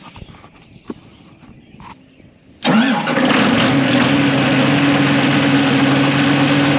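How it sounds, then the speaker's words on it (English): A farm tractor engine cranks and catches at a planting-season start in southern Iowa, quiet morning ambience first, then a loud, steady idle rumble takes over close by. "Start this tractor before I do some yoga."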